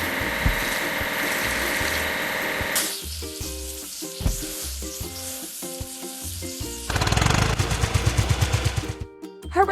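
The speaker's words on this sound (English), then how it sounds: "Hydraulic drill." A cartoon excavator's hydraulic hammer drill on a breakwater construction site sounds as a rapid, loud burst of repeated pounding knocks near the end, after a stretch of tonal, music-like effects.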